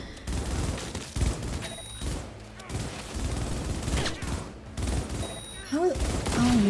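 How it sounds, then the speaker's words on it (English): Gunfire in Cyberpunk 2077 comes as repeated bursts of shots and booms amid game effects, with a voice talking over parts of it. "Oh, he's shooting that guy."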